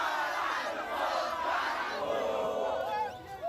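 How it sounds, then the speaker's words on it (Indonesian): Thousands of concertgoers in Karanganyar, Central Java, furious over a cancelled rock concert, roar and shout together in a loud, sustained crowd uproar with no pauses. "Ribuan penonton konser musik di Karanganyar, Jawa Tengah mengamuk."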